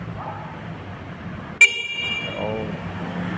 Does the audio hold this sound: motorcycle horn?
yes